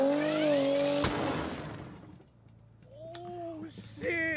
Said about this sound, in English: Doing a donut with an emergency tire on.